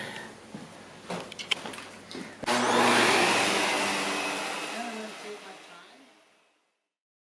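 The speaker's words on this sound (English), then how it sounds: "I'm going to vacuum the other side." A vacuum cleaner runs over an area rug, starting after a few clicks and knocks, roaring loud and close for several seconds before winding down and falling silent.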